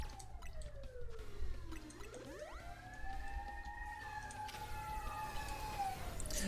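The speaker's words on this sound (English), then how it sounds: "Sorry about the sirens, everyone." Wailing emergency sirens rise and fall in the background, sweeping tones layered over one another, moderately loud and continuous with no talk.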